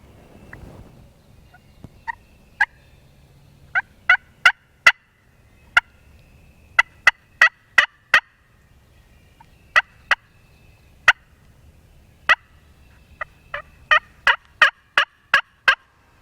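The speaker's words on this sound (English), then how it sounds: "We got birds gobbling, but they're not gobbling a lot" Wild turkeys gobbling in spring woods in Maryland, a series of sharp, loud gobbles spaced irregularly over a quiet woodland background, some clustered in quick runs, with no talk.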